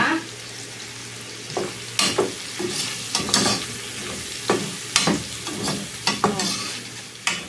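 Chopped small onion fries in a pan with a soft continuous sizzle, while a utensil scrapes and taps against the pan in irregular strokes, close and moderately loud without any talking.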